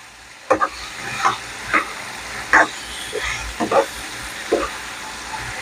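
Vegetables cooking with onions in a pan for an Indian hotel-style veg kurma, with several separate scraping stirs and soft sizzling bursts over a low hum.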